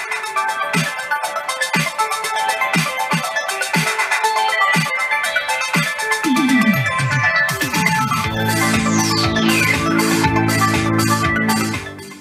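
Music plays from a phone through a Musical Fidelity A2 amplifier into small speakers: a steady melodic piece with repeated plucked notes and sweeping tones, continuous and fairly close, with no talking.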